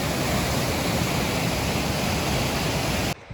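Rushing river water at a trail river crossing along the Pacific Crest Trail near Muir and Selden Passes, a loud, steady broadband roar filling the scene before cutting off abruptly near the end.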